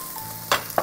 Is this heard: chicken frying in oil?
yes